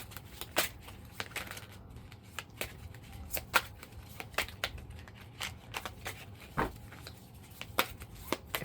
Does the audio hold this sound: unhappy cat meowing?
no